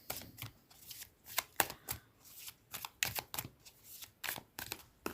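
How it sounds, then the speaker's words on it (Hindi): Tarot cards shuffled by hand, a quick series of crisp riffling bursts and soft slaps in an uneven rhythm, close and fairly quiet, with no talking. "जब तक मैं शफल कर रही हूँ"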